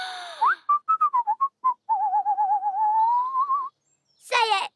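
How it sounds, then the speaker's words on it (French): A cartoon character whistles a bouncy tune of short chirpy notes followed by a longer warbling trill, with a brief higher squeaky burst at the end, close and alone. "tu viens de siffler"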